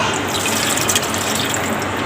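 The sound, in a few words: water poured into frying kebab masala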